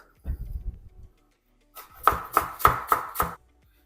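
A knife chops dill on a board with about five crisp, evenly spaced thuds, close and distinct, following a short stretch of quiet talk.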